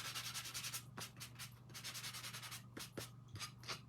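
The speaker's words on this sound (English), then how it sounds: "so I'm just sanding it off." Hand sanding of painted wood on a small decorative house cutout, a quiet rhythmic rubbing with repeated back-and-forth strokes and occasional soft taps, close and alone without talk.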